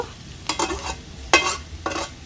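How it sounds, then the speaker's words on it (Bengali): Onions with salt and turmeric stirred in a frying pan while making a mashed green banana, egg and potato bhorta: three scraping stir strokes over a faint, steady sizzle, close and alone. "একটু হলুদ সব কিছু ভালো করে নেড়েচড়ে নিচ্ছি"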